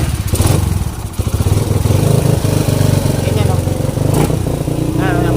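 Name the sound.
Rider 150 motorcycle engine idling roughly, misfiring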